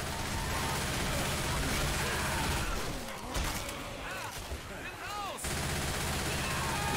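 Rapid gunfire at zombies in Left 4 Dead 2 in a forest area, with a dense stream of loud shots and bursts over a busy game soundscape.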